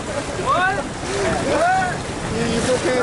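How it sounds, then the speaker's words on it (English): Ocean waves at Cabo San Lucas wash in a steady roar under strong wind noise on the microphone, while people's voices talk over them throughout. "Yo, you gotta check out those waves."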